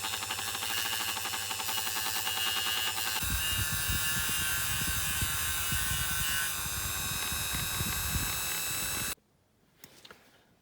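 Small rotary power tool on its slowest setting grinding into a die-cast Matchbox VW Beetle model car, a steady close buzzing whine that shifts pitch partway through, then stops abruptly and leaves quiet handling noises.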